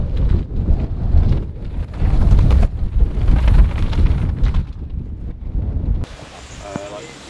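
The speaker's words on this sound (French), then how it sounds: "Là, c'est le vent, c'est chiant." Wind buffeting the microphone on the Fort William downhill mountain bike World Cup track, a loud continuous low roar and rumble that drops away abruptly near the end.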